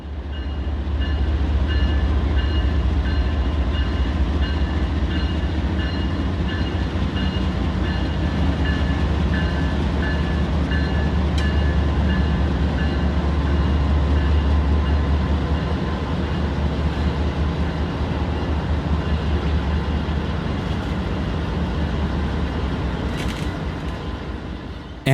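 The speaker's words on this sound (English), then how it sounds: "As Norfolk Southern ES40 DC number 7552 crept into the yard with a Triple Crown train in tow" A Norfolk Southern ES40DC locomotive hauls a Triple Crown freight train slowly into a rail yard in Ohio, a steady loud rumble of rolling cars with faint wheel clatter throughout, no voices.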